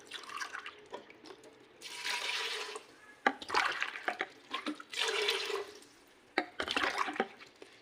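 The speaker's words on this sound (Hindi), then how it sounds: "तीन गिलास हम पानी ऐड करेंगे।" Three glasses of water are poured in several separate splashy bursts into a metal pressure cooker holding soaked masoor dal, with short quiet gaps and small clinks between pours.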